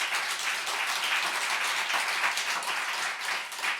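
A church congregation applauds together during a sermon, a steady wash of many hands clapping at moderate distance, even in level for the whole stretch with no voices on top.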